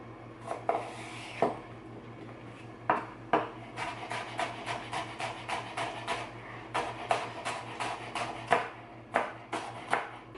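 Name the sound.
knife slicing rhubarb stalks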